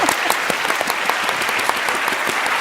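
A studio audience claps steadily for a few seconds, dense and close, with no voices over it.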